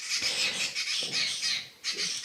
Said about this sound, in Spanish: los pajaritos que nos están cantando